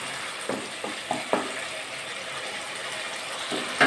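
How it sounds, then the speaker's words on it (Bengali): Spice paste frying in oil for a Bengali fish curry makes a steady close sizzle, broken by several sharp scraping strokes of a spatula stirring it, with no voice. "মশলা দিয়ে যতক্ষণ তেল না ছাড়ছে ততক্ষণ কিন্তু মশলাটা কষিয়ে নিতে হবে।"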